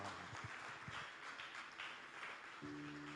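A church congregation claps and applauds during a Spanish-language sermon, a steady dense wash of hand claps filling the space throughout, moderately loud, with a brief tonal note near the end.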